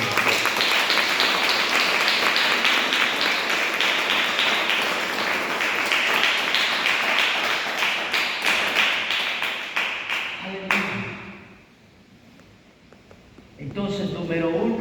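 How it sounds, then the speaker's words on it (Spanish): A church congregation in Nicaragua claps loudly in a dense, sustained burst that gradually thins into scattered claps and then breaks off, leaving a near-silent pause before sound resumes. "Denle aplausos al Señor."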